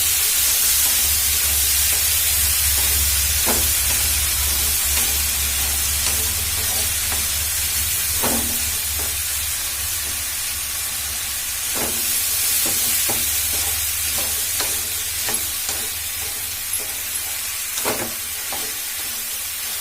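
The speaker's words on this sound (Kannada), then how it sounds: "ತಿಪ್ರಿಕಾಯಿ ಹಾಕಿ ಸ್ವಲ್ಪ ಚಂದಾಗೆ ತಿರುಗಬೇಕ್ರಿ" Vegetable dish with tipri kayi frying in a pan over a low gas flame, a steady soft sizzle and hiss with occasional scraping clinks as it is stirred, no talking.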